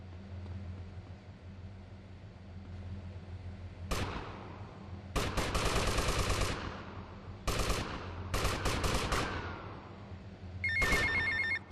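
A phone rings inside GTA Vice City, its repeated electronic ring arriving in loud, evenly spaced bursts over a steady game background hum, with a tonal trill near the end.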